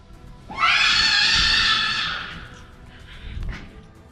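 A piercing, eerie creature scream rises suddenly, holds loud and shrill for over a second, then fades into a breathy tail with a faint second cry.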